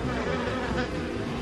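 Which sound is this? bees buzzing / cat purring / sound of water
bees buzzing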